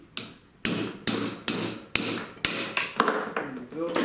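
A screwdriver is worked against a steel rear axle oil seal on a Triumph TR3, with about eight sharp, loud strikes at an even pace and metallic ringing between them.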